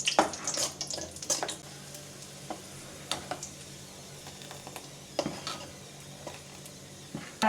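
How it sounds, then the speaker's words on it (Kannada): Raisins and cashews frying in hot ghee, a quiet continuous sizzle broken by scattered sharp clicks and stirring scrapes, with no talking. "ದ್ರಾಕ್ಷಿ ಒಂದು 15 ಮತ್ತು ಗೋಡಂಬಿ ಒಂದು 10 ತೊಗೊಂಡಿದ್ದೀನಿ. ಅದನ್ನು ತುಪ್ಪದಲ್ಲಿ ಹುರಿದ್ಬಿಟ್ಟು ಹಾಕೋಣ."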